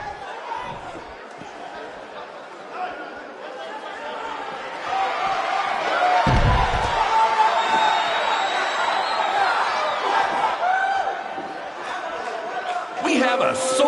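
A sold-out arena crowd in the WWE 2K19 wrestling video game gives off a steady, broad roar of cheering and chatter that swells midway, heard beneath a commentator's voice.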